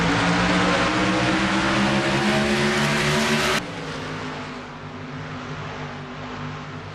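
A sim racing game's number 3 Fury chassis race car engine drones loud and steady at high revs, then the tone abruptly drops to a lower, quieter engine roar as the view or car shifts.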